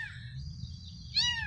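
High, thin crying from kittens stuck up in a tree in a cemetery, two wavering calls with a louder one at the end, over a low rumbling outdoor background.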